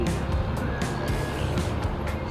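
Heavy city traffic in Ortigas, a dense steady rumble of car engines and passing vehicles close by, continuous with no pauses.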